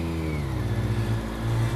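A 2008 BMW K1200S sport-touring motorcycle with an Akrapovic exhaust revs in a short, steady mid-pitched burst, close and fairly loud, the engine note rising slightly toward the end.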